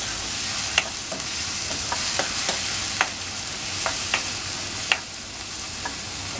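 Onion and tomato with salt being stirred in a frying pan: a steady sizzle under a string of scraping clicks from the spoon, close and moderately loud, with no voices.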